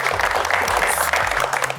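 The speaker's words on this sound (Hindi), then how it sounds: "इनके लिए भी तालियां।" Audience applause at a Masala TV anniversary special show on a studio set, a dense, close burst of clapping that fills the short stretch, with a voice faintly underneath.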